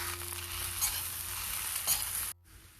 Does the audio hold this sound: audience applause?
no